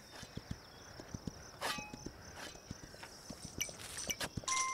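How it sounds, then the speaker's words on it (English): A horse in a video game walks at a brisk pace, its hooves giving a quick, steady clip-clop that stays faint beneath a constant ambient hum with occasional bright chimes. "the horse walks pretty fast"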